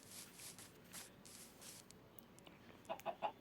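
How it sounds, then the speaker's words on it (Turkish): A Minecraft chicken clucks three times in quick succession near the end, short and clear over a faint steady background hum. "Bu son kalan tohumumda da arkadaşlar bu tavuğu besleyeyim."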